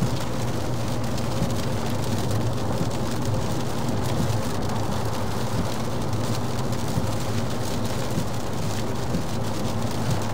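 Steady heavy rain drums on a car while driving through Israel, a dense, constant wash of close drops with no voices and no pauses.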